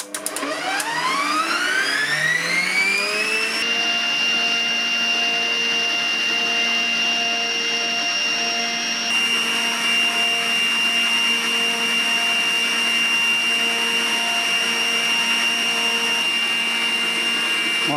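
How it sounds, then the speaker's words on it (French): An Aldi Ambiano 800 W stand mixer whisks four egg whites at top speed 6, its motor whine rising quickly in pitch and then holding a loud, steady drone for the rest of the time. "Là, il y a 4 blancs d'œufs. On a ajouté le fouet. Et là, on va se mettre à la vitesse maximale, vitesse 6."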